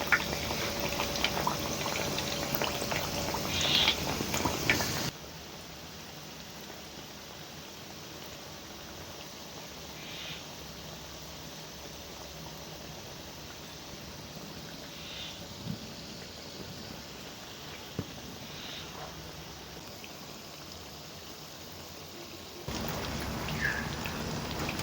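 Khari biscuits fry in oil over a medium-low flame, giving a faint, steady bubbling crackle like light rain, with occasional soft pops and a louder stretch at the start and end.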